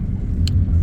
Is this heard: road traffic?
yes